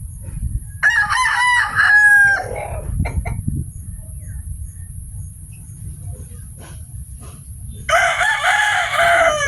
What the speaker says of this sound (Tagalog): Kita mo tatlo ng manok doon